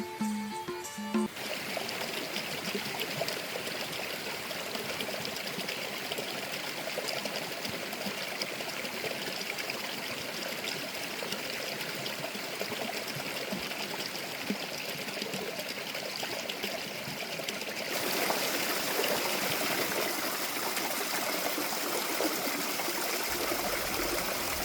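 A Himalayan mountain stream flows steadily nearby, a constant trickling, gurgling rush that swells louder toward the end, with no voices over it.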